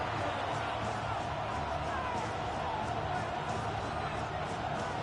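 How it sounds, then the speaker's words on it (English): Stadium crowd noise from the Madden 26 football video game, a dense, steady roar of many distant voices filling the background with a broad wash of sound and no distinct cheers. "This crowd into it now as we get to third down."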